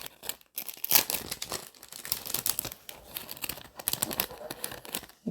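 Plastic packaging from a herbarium pen-making kit is torn open, with sharp crinkling and crackling bursts coming in irregular bouts, close and fairly loud.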